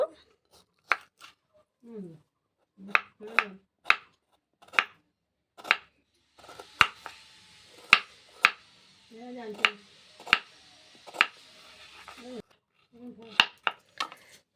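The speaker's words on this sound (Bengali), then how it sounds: "আমলকিটা ধুয়ে নিয়েছি এবার এইভাবে কুচি কুচি করে কেটে নেব" Washed amla (Indian gooseberry) sliced thin with a knife, producing a series of sharp, close, evenly spaced chopping clicks over about fifteen seconds, with short pauses between strokes.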